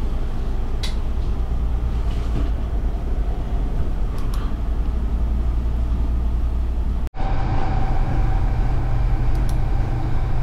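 A refurbished Viva Rail train carriage on the Marston line rumbles along with a continuous low drone and rolling noise, loud and steady, broken by one sharp momentary dropout near the end.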